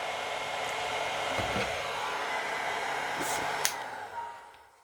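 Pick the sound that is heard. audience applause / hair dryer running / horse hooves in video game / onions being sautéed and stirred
hair dryer running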